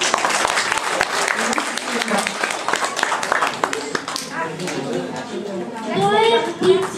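Class of first-grade children applauding a classmate at a school letters celebration, brisk claps filling the room for several seconds before young voices and chatter take over.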